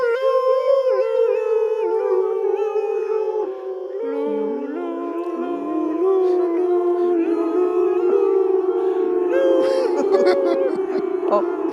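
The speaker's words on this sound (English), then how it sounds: "Oh, you're upsetting my dog." A cartoon dog howls in a long, wavering, sustained melodic line in A Charlie Brown Christmas, loud and close, sliding up and down in pitch over a backdrop of music.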